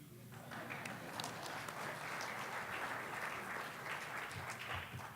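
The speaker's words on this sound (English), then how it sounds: "And that should be an applause somewhere." Applause from a conference audience at an open-source tech talk, a dense, even roar of clapping that fills the room steadily for several seconds at a fairly distant, soft level.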